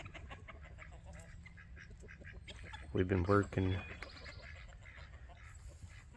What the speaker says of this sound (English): a bunch of chickies and turkeys, guinea birds, ducks.